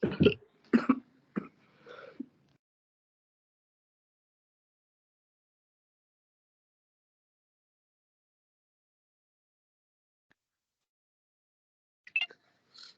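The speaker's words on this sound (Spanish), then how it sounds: "tengo un poco de tos" A quick run of several harsh coughs close to the microphone, then long silence and one more faint cough near the end.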